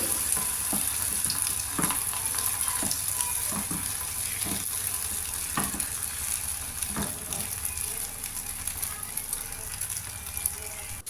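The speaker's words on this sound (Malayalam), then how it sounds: "ഇനി നമുക്ക് പെട്ടെന്ന് മുട്ട ഒന്ന് പൊരിച്ചെടുക്കാം ഉപ്പും മുളക് പൊടിയും മാത്രം ചേർത്ത ചേർത്തിട്ടുള്ളൂ" An egg seasoned with salt and chili powder fries in a pan, giving a steady close sizzle with scattered pops and a few scraping taps from a utensil.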